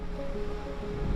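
A raging sea and gale wind at Sandy Cape make a constant, loud roar of surf and gusting air with no pauses and no voices.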